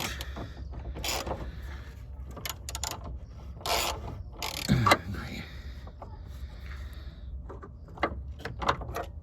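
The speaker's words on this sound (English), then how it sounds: "Right, undo the nut." A socket wrench works loose a nut on the front lower suspension arm of a Jeep Grand Cherokee LTD, giving scraping, rasping metal turns and clicks in bursts, with a person talking over it.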